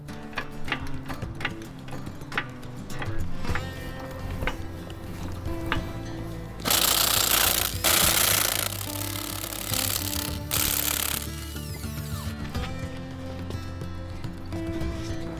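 Wheel removal on a Ford Bronco: bursts of an impact wrench rattling loose the lug nuts, with steady mechanical clatter and ticking between the loud bursts, close by and without speech.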